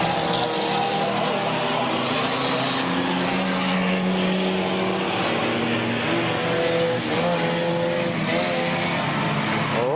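Race cars roar around the oval at Midvale Speedway, a loud continuous multi-engine drone with shifting pitches as the cars lap close by, filling the whole stretch with no break.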